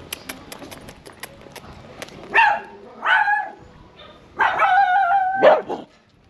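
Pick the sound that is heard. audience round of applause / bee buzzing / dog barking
dog barking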